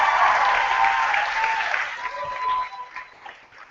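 A student audience at a campus talk gives loud, sustained applause with some cheering mixed in. The clapping is thick at first, then thins out and fades toward the end.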